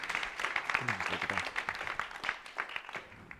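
Classroom audience at a church mission Sunday event clapping for presenters, a patchy, moderate round of applause with individual claps audible and faint voices mixed in.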